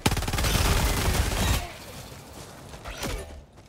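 Rapid bursts of gunfire from the Helldivers 2 video game, a dense, loud volley for about a second and a half, then quieter scattered shots and a sharp burst near the end.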